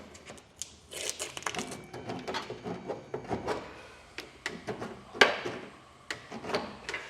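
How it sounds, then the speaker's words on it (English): Hand file scraping burrs off metal during a front-mount trailer hitch install on a 2020 Ford F-350 Super Duty, close-up irregular rasping strokes and clicks in an uneven rhythm. "So now I'm just going to go back with the file and get these burrs off."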